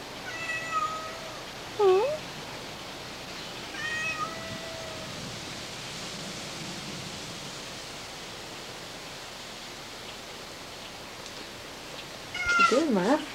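A pet cat meows several times in a home, with short high calls scattered over steady background hiss and a louder burst of meowing near the end.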